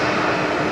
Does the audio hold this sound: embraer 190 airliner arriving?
yes